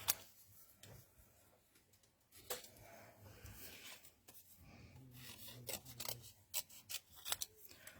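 Scissors cutting out a paper figure for artist trading cards, with faint, close snips and rustling paper scrapes coming in irregular bursts, no talking.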